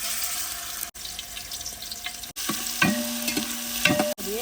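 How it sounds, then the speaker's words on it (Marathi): Hot oil sizzles steadily in a pan as coconut and cumin seeds are added for tempering, with metallic clinks and scrapes of stirring and a few sharp breaks in the sound. "तेल टाकल्यानंतर खोबरं आणि जिरं फोडणीसाठी देत आहे"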